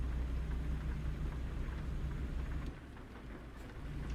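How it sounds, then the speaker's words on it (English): Steady heavy rain drumming on a truck in American Truck Simulator, a continuous dense wash with low engine rumble beneath, easing slightly partway through. "This rain seems to be getting worse."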